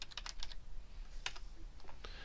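Quick burst of typing on a computer keyboard in an Excel spreadsheet session, several light, close key clicks in a short irregular run, faint against a quiet room.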